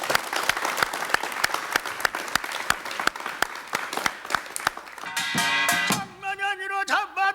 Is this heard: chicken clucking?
no